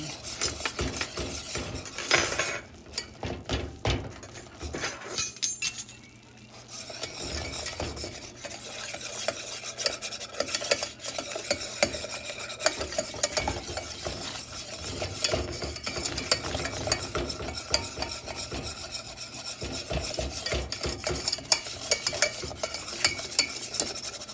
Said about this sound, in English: You're going to stir until it starts to get a rolling boil.